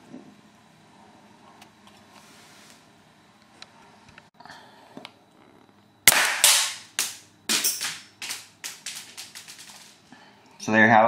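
A homemade gas-powered BB pocket pistol charged with hairspray fires a rapid string of sharp, loud pops, about a dozen shots in quick uneven succession after a quieter stretch of handling noise, with a final burst at the end.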